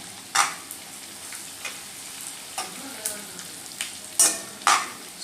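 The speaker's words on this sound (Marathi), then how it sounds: "आता आपण आधी बोंबील परतवून घेऊया" Bombay duck fish frying in hot oil in a pan, with a steady close sizzle and several sharp stirring scrapes and spatters at irregular intervals.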